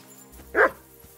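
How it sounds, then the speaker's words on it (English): A dog in the medieval game Kingdom Come: Deliverance II gives one short, fairly loud bark in the middle of an otherwise quiet stretch. "Barking."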